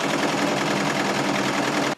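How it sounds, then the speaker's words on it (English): A serger machine runs steadily through fabric, producing a loud, close, continuous rapid whir of stitching that stops abruptly at the end, with no voices. "Here I have the fabric and I'm going to serge and stitch it at the same time with"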